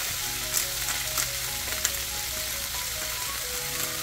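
A sriracha sauce mixture sizzles steadily in a hot pan while being stirred, a continuous close frying hiss with faint scraping of the utensil.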